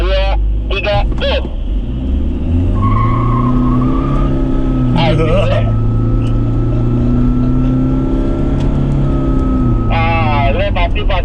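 A car accelerates hard off the line at the start of a drag race in Indonesia, its engine rising and pulling steadily over several seconds, with people talking excitedly in the car at the start and end.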